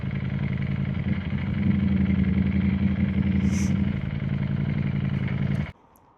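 A 2022 Ducati Panigale V4S idles close by with a steady, throbbing engine rumble that holds for several seconds, then cuts off abruptly near the end, leaving quiet.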